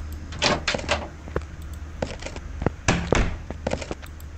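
In Car Mechanic Simulator 2018, the hood lid of a Porsche 911 Turbo closes with a series of hollow thuds and clunks, a few sharp knocks spread over several seconds, close and fairly loud with no talking.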